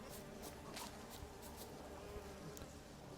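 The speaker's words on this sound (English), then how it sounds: "Just a hive of bees. Sentient bees." A hive of bees in The Witcher 3 hums in a steady, close buzz, with individual insects swelling briefly louder as they pass, over a quiet game ambience.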